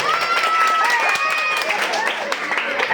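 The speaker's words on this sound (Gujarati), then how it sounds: "જોરદાર તાળીઓ થઈ જાય." Audience applause for children performing on stage at a school or community event, steady dense clapping filling the whole stretch with raised voices and crowd noise mixed in.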